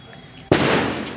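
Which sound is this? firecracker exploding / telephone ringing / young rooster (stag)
firecracker exploding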